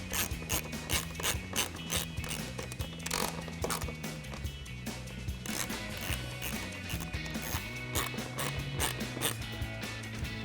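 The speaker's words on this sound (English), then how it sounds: "We'll grab our 7mm socket on our ratchet to tighten them down." A ratchet with a 7mm socket tightens screws on a 2021-2023 Ford F-150 headlight, giving close, rapid bursts of clicking that repeat throughout.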